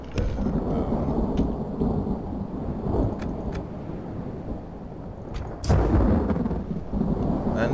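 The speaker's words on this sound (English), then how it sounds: "a little bit of rain never hurts anyone" Steady rain pours in a fantasy strategy game battle, Lord of the Rings Divide and Conquer mod, with a continuous broadband hiss and rumbling thunder swelling in loudness near the end.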